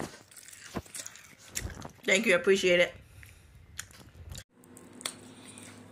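Crunchy Cinnamon Toast Crunch cereal chewed close to the mic, a burst of crisp crunches and mouth sounds between stretches of a person talking.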